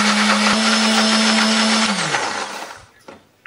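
An electric blender grinds chili, candlenut, shallots and garlic with a little water, a loud steady whir that cuts off near the end and winds down to quiet with a small knock.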